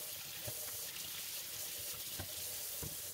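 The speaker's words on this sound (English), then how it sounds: "we got the water going as hot as my tap will go" Very hot water runs steadily from a household tap, wetting a wooden rifle stock before scrubbing. It makes a continuous, close hiss with a few faint splashes and no talking.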